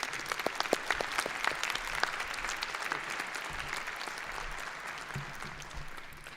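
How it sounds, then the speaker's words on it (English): A large audience applauds the commencement speaker at a SUNY Oswego graduation ceremony, steady dense clapping with sharp individual claps near the front that gradually thins and softens over about six seconds. "today the applause really belongs to you"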